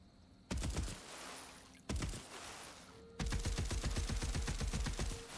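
Rapid gunfire bursts from a weapon in Tiny Tina's Wonderlands, with ricocheting bullets: two short volleys, then a longer sustained stream of rapid shots near the end, loud and close, with no talking.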